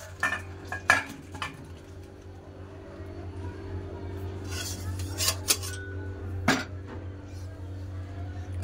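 Cooked potato and pointed gourd posto curry goes from the pan into a serving dish, with scattered metallic clinks and scrapes of the cooking spoon over a low, steady kitchen hum.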